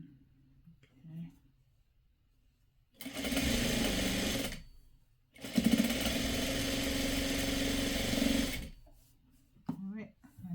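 An electric sewing machine stitches a fabric strap in two sustained bursts of rapid mechanical whirring separated by a short pause, close and loud, with brief quiet voice sounds before and after.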